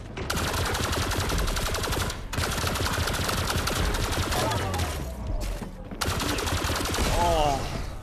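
Rapid, dense bursts of shotgun and weapon fire fill a VR arena shooter match in Grapple Tournament, loud and nearly continuous with brief gaps, while a player's voice speaks over the gunfire.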